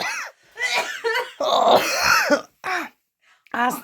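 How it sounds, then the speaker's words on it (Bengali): A woman coughs and clears her throat in a few short, close bursts, with brief voiced laughter-like sounds between them, indoors at home. "কাশি উঠে যাচ্ছে আমার"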